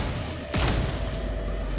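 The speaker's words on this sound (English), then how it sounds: "Open up with a nice sniper rifle shot" A single loud sniper rifle shot cracks out in the Redfall video game, a sharp blast that decays into a lingering rumble over steady background ambience.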